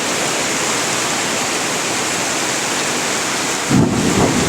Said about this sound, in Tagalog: Ay, kulog.